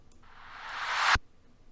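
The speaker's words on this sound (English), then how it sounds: "then I added a riser." A rising synthetic noise sweep builds over about a second, swelling louder and brighter, then cuts off sharply with a low thump.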